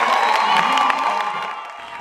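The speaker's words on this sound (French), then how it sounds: "Est-ce qu'on peut très bien applaudir chers camarades étudiants?" Students at a university gathering applaud and cheer together, a dense crowd roar with whoops and clapping that stays loud and steady throughout, then eases slightly near the end.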